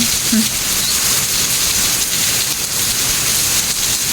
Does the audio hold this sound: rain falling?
yes